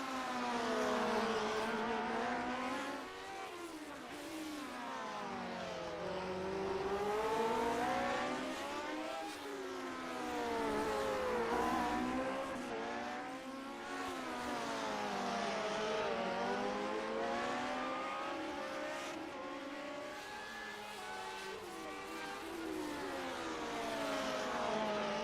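Lotus 79 race cars lap in a retro racing video game at Long Beach, engines rising and falling in repeated sweeping whines as cars pass close by and shift up, loud and continuous.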